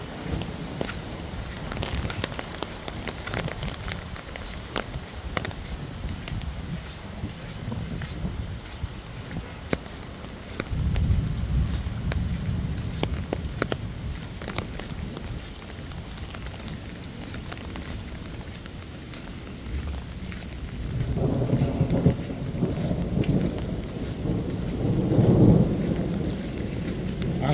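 Thunder rumbles low and long over light, steady rain in a Meghalaya village, with deep rolls swelling midway and again near the end, and nobody speaking.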